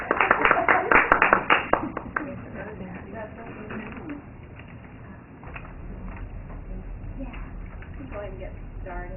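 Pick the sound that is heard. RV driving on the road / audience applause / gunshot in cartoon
audience applause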